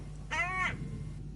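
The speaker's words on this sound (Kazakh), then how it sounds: "сосын кәдімгі қарғаның дауысы қарқылдайды" A hooded crow perched on a post in a house courtyard gives a single harsh caw, close and clear over quiet background.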